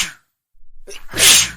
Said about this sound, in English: छींकना